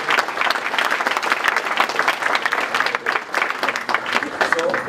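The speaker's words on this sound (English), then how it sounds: "Let's clap our hands one more time for the Zimbabwean spirit." Crowd at the Zim Excellence Awards 2018 ceremony gives sustained, dense applause throughout, steady hand-clapping filling the hall.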